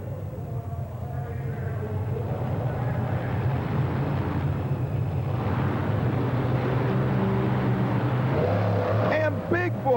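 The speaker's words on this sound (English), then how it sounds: "And Bigfoot leaves the starting line well before the green light ever was illuminated" A monster truck engine roars loudly at a 1991 Worcester indoor show as Bigfoot, a Ford monster truck, launches off the starting line, a steady heavy drone with a commentator speaking over it throughout.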